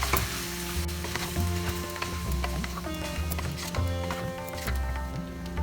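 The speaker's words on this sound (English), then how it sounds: "Mix them very well in the masala." Spices such as Kashmiri red chili, cumin and coriander powder are stirred into a sizzling vegetable khichdi masala, with a continuous frying hiss, repeated spoon clinks and scrapes against the pan, and a low steady hum underneath.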